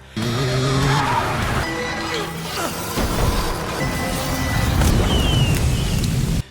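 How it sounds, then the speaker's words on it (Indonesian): During a street car chase, tires squeal and skid in a long, loud, continuous screech, with engine roar beneath and a brief crash-like burst partway through. "Feng mencoba untuk menghalau laju mobil dari Wei yang sangat begitu cepat"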